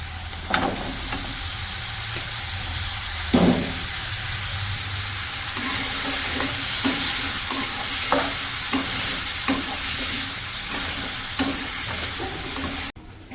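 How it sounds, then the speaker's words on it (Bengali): Spice paste with onion, green chillies, turmeric, chilli and coriander powder is stirred and fried in a pan: a constant sizzle broken by repeated scraping strokes of the spoon, close and clear, ending abruptly with no talk. "এটা হচ্ছে মশলাটা কষাই নিচ্ছি, পেঁয়াজ কাঁচামরিচ, তারপর হলুদের গুঁড়া মরিচের গুঁড়া ধনিয়া গুঁড়ো"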